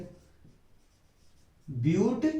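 Chalk or marker writing on a board during a Class 12 chemistry lesson on aldol condensation, a brief scratchy burst of strokes near the end after a quiet stretch.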